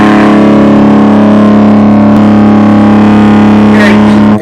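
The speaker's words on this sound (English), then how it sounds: "what you're hearing is primarily the distortion plus front end" Electric guitar played through a modified Distortion Plus overdrive pedal in standard overdrive mode, sustaining loud, thick, saturated chords with dense harmonics and a brief string scrape near the end.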